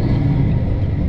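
A truck engine rumbles loudly and steadily as the driver downshifts from fifth to fourth gear, heard up close for about a second.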